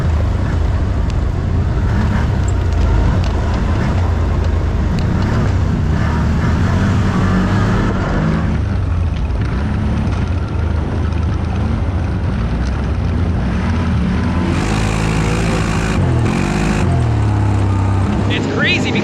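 A CFMOTO ATV runs along sandy trails behind a side-by-side, its engine droning steadily and loud, mixed with heavy wind buffeting, with one rev surge near the end and people talking over the noise.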